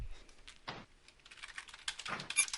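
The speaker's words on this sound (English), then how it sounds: "Alright, I'll type fast." Rapid keyboard typing on a computer during a gaming session, bursts of clattering keystrokes that rise and fall over a few seconds, close by with no talking.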